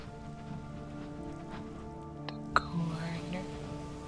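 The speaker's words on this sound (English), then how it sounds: "Why is it raining?" Steady rain patters in the video game Sunless Skies, with a low hum and a few sharp drips or clicks over the continuous wash.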